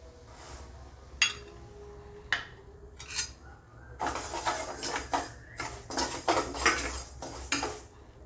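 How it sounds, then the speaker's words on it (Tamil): Rice and lentils dry-roasting in a pan for coconut milk payasam, a spoon scraping and clinking against the metal in irregular strokes that grow busier and louder, close up with no talk. "இப்போ இந்த அரிசியும் பருப்பையும் போட்டு நம்ம வறுத்து எடுத்துக்கலாம்."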